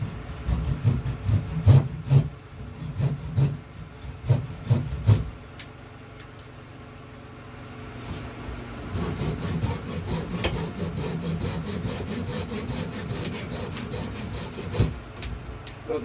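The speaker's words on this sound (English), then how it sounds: "what you can see I'm doing here is cutting off the extra bits of the dowels that's sticking out" A handsaw cuts off protruding wooden dowel ends on a cigar box guitar, steady rhythmic back-and-forth rasping strokes, close and fairly loud, with a slower scraping passage in the middle.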